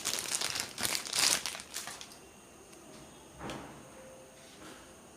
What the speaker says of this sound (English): the inner packaging, this comes in a plastic wrap